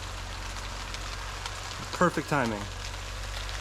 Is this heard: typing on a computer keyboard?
no